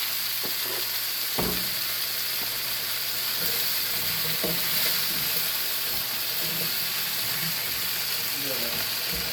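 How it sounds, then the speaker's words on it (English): Sliced potatoes and onions frying in a pan, a soft steady sizzle with stirring scrapes and occasional clinks, under faint background talk. "I'm gonna put my potatoes and onions in there."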